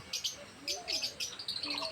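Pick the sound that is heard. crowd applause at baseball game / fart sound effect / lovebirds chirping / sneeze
lovebirds chirping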